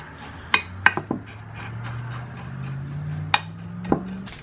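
A spoon knocks and clinks against a dish while pressing moistened graham cracker crumbs down: a few sharp, close taps scattered over a low steady hum.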